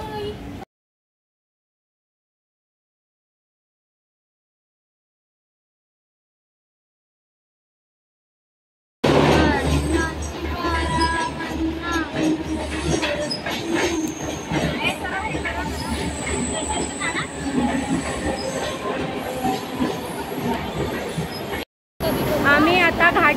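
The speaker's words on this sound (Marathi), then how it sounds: "तर आता आमची ट्रेन ट्रॅव्हलिंग चालू होणार आहे।" A Mumbai local train travelling to Ghatkopar. After a long silent stretch, a loud, close rumble of a moving train with rattling carriage noise and wheel squeal runs on, with a brief cut near the end.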